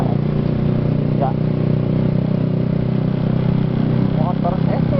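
A Honda CBR 150R motorcycle engine idles and runs steadily nearby on a village road in Gebang, Cirebon, after rain, a constant loud hum with faint background noises.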